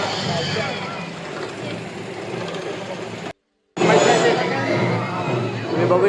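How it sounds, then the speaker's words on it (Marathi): Busy crowd at a village temple fair for the goddess Solajai near Devrukh, a dense murmur of many voices with children playing and stalls around, steady and close, broken by a brief silent gap midway. "गर्दी खूप आहे"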